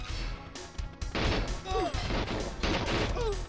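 Gunshots in GoldenEye 007 burst out as loud, sharp cracks in rapid clusters with brief gaps between volleys, close and punchy amid other game effects.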